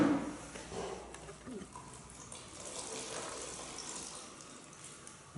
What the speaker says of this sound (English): I squeeze it till it stops dripping